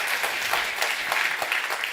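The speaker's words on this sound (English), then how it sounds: "Maybe give a warm round of applause to the young talents who are so important." Warm round of applause for young talents, students and PhD students, at the Erasmus Descartes conference on food sovereignty: dense, steady clapping from a sizeable crowd, fairly close and even throughout.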